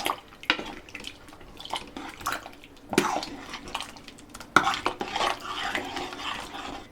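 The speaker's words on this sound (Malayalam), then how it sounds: "നന്നായിട്ടൊന്ന് മിക്സ് ചെയ്ത് കൊടുക്കാം" A spoon stirs and scrapes around a pot of Kerala sambar thinned with about one and a half glasses of water, giving close, irregular clinks and wet swishes with brief pauses between strokes.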